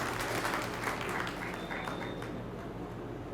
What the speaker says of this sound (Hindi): 2 खिड़की सचिन जी पासा की तरफ से तालियां बजाएं